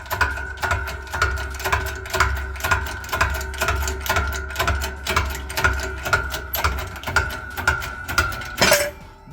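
Someone pumps a hydraulic tool to lower a part during a 2009-2017 Audi SQ5 wheel bearing replacement, producing steady rhythmic metallic clicks and ratcheting about twice per second, close up, ending in a sharper clank.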